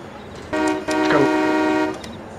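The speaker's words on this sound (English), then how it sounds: "Sounds like a train horn." In Farming Simulator 22, a vehicle horn sounds two close blasts that merge into one sustained, loud, rich tone like a train horn, then stops abruptly.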